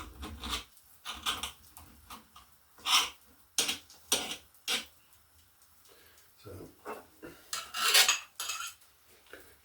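A knife chops asparagus steadily on a cutting board, a series of sharp close knocks in uneven rhythm, with no voices.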